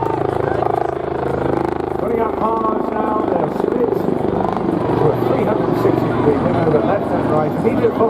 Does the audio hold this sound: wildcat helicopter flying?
yes